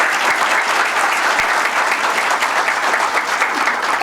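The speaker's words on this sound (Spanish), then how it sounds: "Un fuerte aplauso para ella." A conference audience gives steady, dense applause for a speaker at a panel session, with many hands clapping close and loud for the whole stretch.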